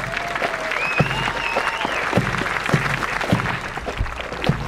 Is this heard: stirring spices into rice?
no